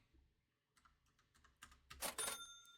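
Quick taps on a computer keyboard numpad, a short irregular run of close clicks that builds into a denser flurry near the end, faint and alone.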